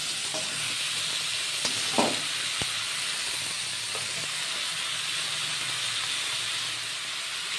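Cauliflower and potato with salt and turmeric stirred in a hot pan for a fish curry, a continuous close sizzle broken by a few clinks and scrapes of the spoon, with no talking.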